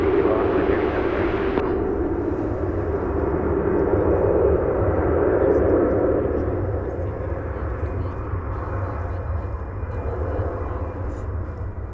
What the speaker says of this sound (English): this aircraft will scoot off the runway and then make room for